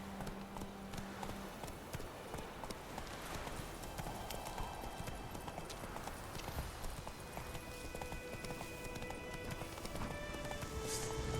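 A horse gallops in the video game The Witcher 3, with rapid, steady hoofbeats running continuously at moderate volume over ambient game sounds.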